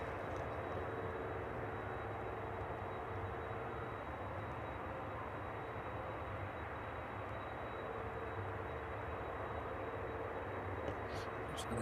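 A Boeing 747 converted freighter taxis onto its stand at East Midlands Airport in the evening, a steady, distant jet engine roar and whine holding an even level throughout.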